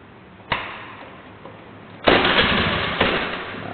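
A car engine with electronic fuel injection cranks and catches during fuel system maintenance, with the fuel pump connector unplugged to drain remaining fuel. A sudden burst gives way to a loud, steady running roar, marked by occasional sharp surges.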